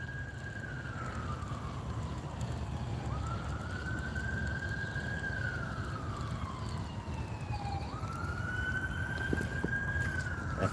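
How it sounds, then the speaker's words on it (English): Ambulance siren wailing from a nearby fire station, rising and falling in long sweeps over steady outdoor background noise while out bass fishing, clear and fairly close with no talking. "That sounds like an ambulance more than a fire truck."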